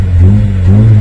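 Car engine revving as the accelerator is pressed hard, a loud, close, low-pitched engine drone that rises and dips in a single rev over about a second, with no talk.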